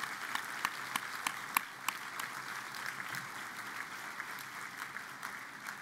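Audience applause for donors at a school foundation fundraising program, a faint, steady patter of many hands with a few sharper individual claps standing out, continuing through the whole stretch.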